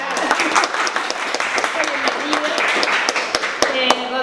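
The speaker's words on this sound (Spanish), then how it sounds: "Un aplauso para Rodrigo Rapela." An audience applauds a writer being introduced at a school literary event, sustained clapping with sharp individual claps standing out, with some voices mixed in beneath.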